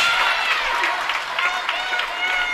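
Spectators at a girls' high school basketball game applaud and cheer, a dense, loud wash of clapping and crowd noise sustained throughout.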